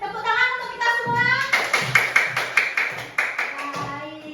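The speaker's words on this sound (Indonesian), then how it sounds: "Oke, tepuk tangan untuk kita semua." A class of children claps hands together in a primary school classroom, a burst of irregular claps settling into a loud, rhythmic group beat of about a dozen claps, with children's voices underneath.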